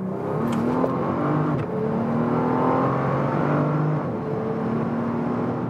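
A Bentley Continental GT Speed W12 coupé accelerates hard on Vallelunga racetrack in Italy, a loud sustained engine roar climbing steadily through the gears from inside the car.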